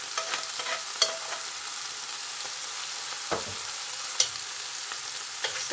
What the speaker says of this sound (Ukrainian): поки друга порція баклажанів смажиться